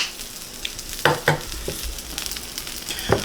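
Bread toasts in a frying pan with a steady sizzle. A few sharper clatters and scrapes of handling break in over it, all close by.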